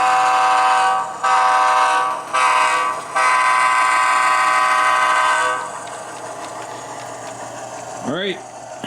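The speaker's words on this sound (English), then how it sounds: "a little bit more honking here" Horn on an Athearn Dash-9 model train sounding as a rising, bending toot near the end, following a stretch of steady loud engine and rail sound broken by several brief dips.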